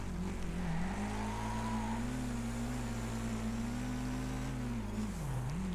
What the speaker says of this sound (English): Car right behind us